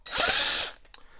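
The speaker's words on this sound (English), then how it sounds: "So then I drilled a couple holes in the back of this antler." A power drill bores a hole into an antler in one short, loud whirring burst of about half a second, then stops with a couple of small clicks.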